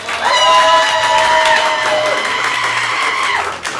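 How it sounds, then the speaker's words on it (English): A crowd at an improv comedy show claps and cheers for the performers, with loud whoops and shouted voices riding over the applause before it trails off. "Give them one more round of applause."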